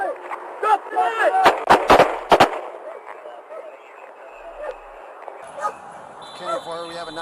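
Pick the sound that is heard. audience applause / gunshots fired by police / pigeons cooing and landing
gunshots fired by police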